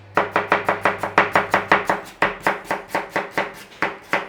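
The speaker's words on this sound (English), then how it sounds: "Now I am going to slice a couple of potatoes and an onion" A knife slices potatoes on a cutting board in quick, even strokes, about twenty crisp close thuds in a steady rhythm, with no talking.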